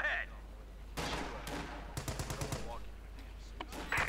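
Rapid bursts of flak panzer gunfire in the World War II strategy game Company of Heroes 2, short crackling volleys repeating over a low steady background rumble.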